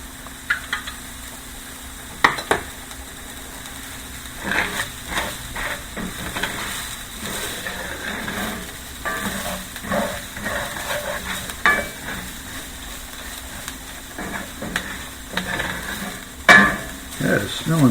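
Enchilada sauce stirred in a sizzling pan: a soft constant sizzle under repeated scraping and clinking strokes of a utensil, irregular and close, with a few sharper knocks.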